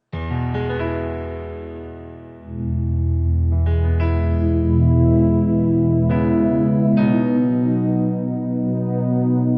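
Sustained synth chords with a heavy effects wash, swelling in layered harmonic tones; new chords enter several times over a continuous, reverberant bed.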